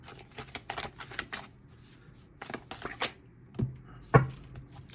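A deck of tarot cards is shuffled by hand in quick riffling bursts, close and crisp, followed by a few sharper taps and slaps as the cards are squared, with no talking.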